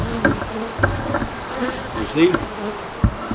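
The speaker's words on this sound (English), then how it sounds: "10 frames of bees." Bees buzz steadily from a swarm trap hive viewed up close from a step ladder, with a dense droning hum and occasional louder passes of single bees, while someone speaks briefly.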